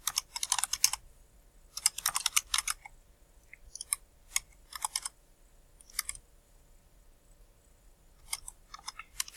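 A shell command typed on a computer keyboard in short, quick bursts of crisp key clicks separated by pauses, close and fairly quiet.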